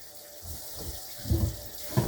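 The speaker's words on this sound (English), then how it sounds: "There's enough water in there now, so I'm going to turn that off." Water runs from a tap into a sink for washing dishes, a steady splashing stream with a few louder gushes and clunks near the end.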